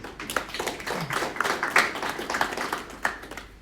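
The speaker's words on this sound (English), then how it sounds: "An applause, please." Scattered clapping from an audience at an MTN launch event honouring an outgoing executive, a steady patter of hands lasting the whole moment without speech.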